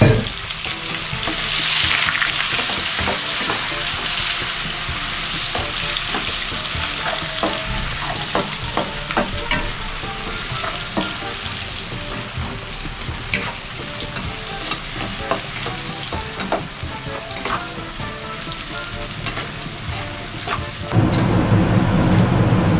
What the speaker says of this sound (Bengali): জিরা দিয়েছি, গোটা জিরা, পেঁয়াজ দিয়ে দিচ্ছি, পেঁয়াজ আর রসুন